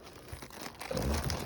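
Crinkling and tearing of plastic packaging as an emergency kit is opened, a soft rustle that grows into louder, close crunching in the second half.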